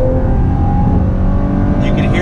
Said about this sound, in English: You can hear that sound coming from the V6